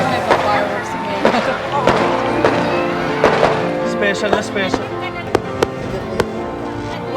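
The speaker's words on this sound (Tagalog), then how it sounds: "May pa-fireworks ngayon" Christmas fireworks go off in a series of sharp bangs and crackles, some near and some distant, spread irregularly across several seconds while people talk excitedly over them.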